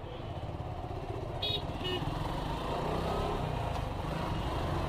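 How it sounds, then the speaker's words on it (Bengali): Motorcycle ride on an open, mostly empty city road, engine drone and wind rumble steady and close throughout, with a faint higher tone briefly rising near the middle. "এই ফাঁকা রাস্তা দেখলে আমি ট্রাই করি যতটুকু কেয়ারফুলি বাইক রাইড করা যায়"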